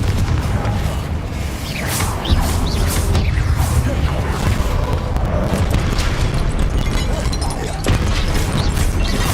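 A Confringo fire-blast spell in Hogwarts Legacy: a dense, sustained barrage of rumbling booms and crackling bursts with clanking mechanical clatter, loud and continuous throughout a heated battle.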